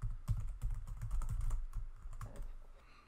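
A computer keyboard is typed on in quick, uneven bursts of close clicks and taps, with backspacing, steady at first and then thinning out, and no voices.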